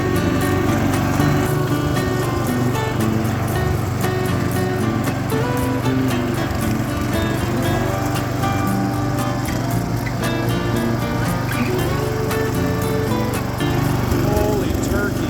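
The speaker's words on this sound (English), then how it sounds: "the exhaust is pulsing just perfectly when I'm driving it" A Wheel Horse 211-5 garden tractor engine, after sitting for years, drones steadily and loudly while driving in fourth gear, with a rough pulsing exhaust note and some changes in pitch as it runs.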